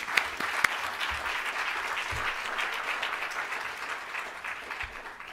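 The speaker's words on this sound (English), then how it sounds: "Should we clap again?" Steady applause from a graduation audience fills the space throughout, a dense continuous patter of many hands with no speech over it.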